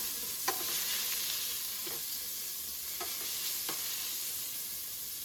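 Sliced onions fry in hot oil for a Kongu Nadu mutton biryani, giving a steady soft sizzle with a few light stirring scrapes.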